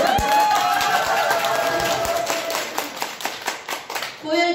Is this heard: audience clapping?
yes